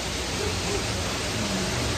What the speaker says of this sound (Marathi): पाऊस पण खूप आहे ना.